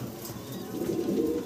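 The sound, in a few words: exhibition pigeons cooing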